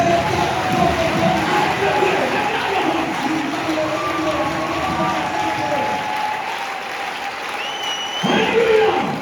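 A church congregation applauds and cheers in praise, a dense, steady wash of clapping and voices that stays loud throughout, with singing or calls rising above it near the end.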